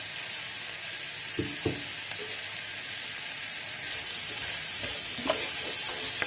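Boiled potato cubes being stirred into vegetables frying in a pan, with a steady sizzle and a few soft scraping knocks of the spoon, alone without talk.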